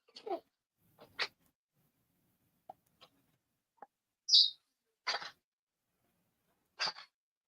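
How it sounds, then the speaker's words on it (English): Several short, sharp hacking bursts spaced irregularly over a quiet background, like a dog coughing nearby, with a few faint clicks between them. "That was a dog coughing."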